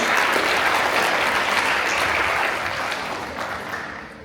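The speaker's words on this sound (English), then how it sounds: "So a huge applause to our members, board members." Audience applause at a gala, a full room clapping steadily and loudly before gradually thinning out toward the end.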